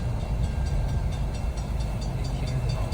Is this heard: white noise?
no